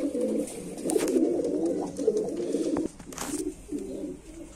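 Domestic pigeons kept at home coo steadily in low rolling phrases close by, with a brief pause near the middle before the cooing resumes, wing flutters and small rustles around them.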